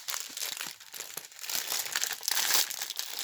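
Thick plastic packaging bags from an AliExpress unboxing crinkle and crackle as they are handled, a close, continuous rustling with sharper crunches, no talking.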